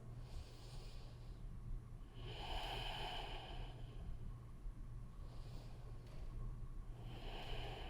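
Slow yoga breaths drawn in and pushed out through the nose during a power yoga class, about three long broadband breaths over a steady low hum, fairly close and soft with no talking.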